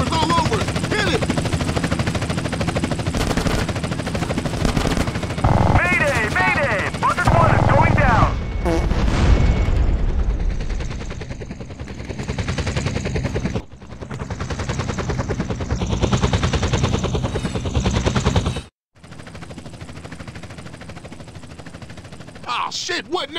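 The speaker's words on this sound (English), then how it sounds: "CJ, that chopper's all over. Hit it!" Police helicopter rotor drone and rapid gunfire in the video game GTA San Andreas, a dense, loud continuous mix with bursts and booms, briefly cutting out near the end, with characters shouting over it.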